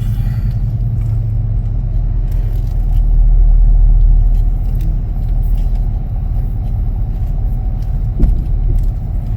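A vehicle engine rumbles steadily and loudly at close range while backing up to a trailer, a low continuous drone that swells briefly in the middle and carries faint scraping.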